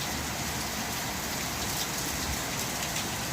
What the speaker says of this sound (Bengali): আজ আমাদের এখানে মুষলধারে বৃষ্টি নামিয়েছে, দেখুন।